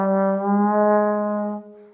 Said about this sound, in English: Those are called glissandos